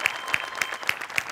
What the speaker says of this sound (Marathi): जोरदार टाळ्या आपले लाईट डिझायनर नरेश मोरे यांच्यासाठी.